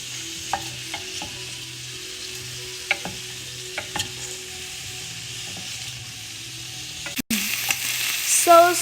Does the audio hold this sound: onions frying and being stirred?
yes